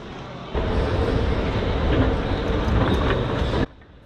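Steady rumbling and clatter of a European overnight sleeper train coming into a station, a continuous even roar lasting about three seconds that starts and stops abruptly.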